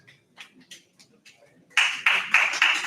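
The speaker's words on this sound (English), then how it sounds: "may I invite you to extend a warm and respectful welcome to Professor Ansuman Srivastava with a huge" Applause from a conference audience welcoming a keynote speaker, a burst of clapping that starts suddenly after some scattered taps and a few faint sounds and then carries on strongly to the end.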